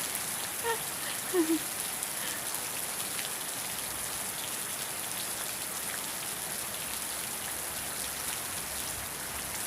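Steady rain hisses down, an even wash of drops falling on surfaces, with a couple of faint bird chirps early on.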